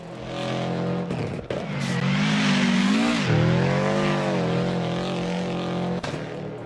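A rally car engine and exhaust in the Richard Burns Rally video game rise and fall through gear changes, a loud buzzing rasp that climbs in pitch, dips and climbs again, heard alone.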